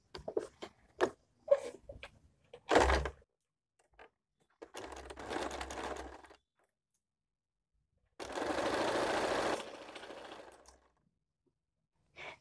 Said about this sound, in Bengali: দেখুন দুটো পাটে আমি সেলাই করে নিলাম।